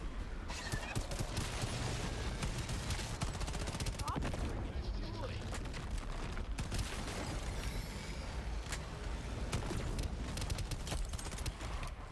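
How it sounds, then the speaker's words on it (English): Video game gunfire pours into a core target in a continuous dense barrage of rapid shots, loud and sustained, with a faint voice beneath. "fill that core with bullets"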